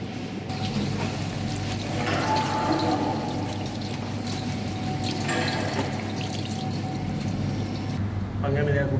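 Tap water runs steadily into a sink while hands are washed after lunch, a continuous close splashing stream that stays under a voice talking throughout.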